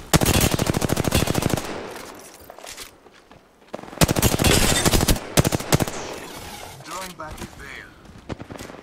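Gunfire in Apex Legends, including the Kraber, crackles in rapid dense bursts, two long loud volleys separated by a pause, then scattered shots and battle noise trailing off.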